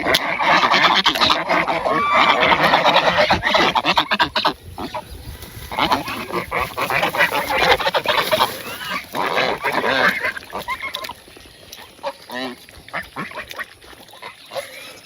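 Domestic ducks quacking in a rural village, a loud, dense chorus of overlapping calls close by that thins out toward the end, with faint human voices now and then.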